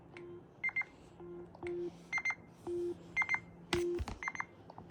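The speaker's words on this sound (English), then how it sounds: "You can see that the rumble motors make sound." Rumble motors in Nintendo Switch 2 controllers emit sound during a controller search: a rapid series of electronic beeps and buzzy tones at varied pitches, repeating in short irregular bursts, close and clean with no talking.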